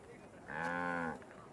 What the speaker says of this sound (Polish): Była sobie krowa.